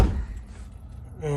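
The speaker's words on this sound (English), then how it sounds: "But let me close this door" A van door on a 4x4 Mercedes Sprinter closes with a single muffled thump at the start, followed by quiet interior ambience.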